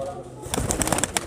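A Kalmuhe pigeon, an old kabootar breed, coos close by in a quick run of soft, pulsing calls, with faint voices in the background.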